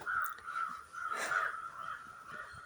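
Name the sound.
crow cawing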